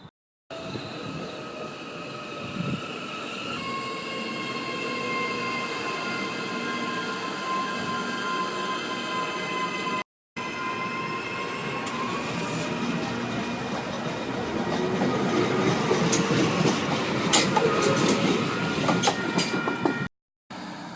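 A train rumbles steadily along the rails with rhythmic clatter, growing louder and noisier toward the end with screeching wheel sounds.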